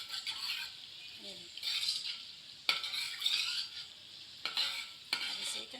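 Ginger garlic paste frying in hot ghee while being stirred: a soft continuous sizzle with spoon scrapes and occasional clinks against the pan, fairly quiet and close.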